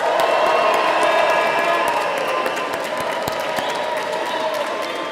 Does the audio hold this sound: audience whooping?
yes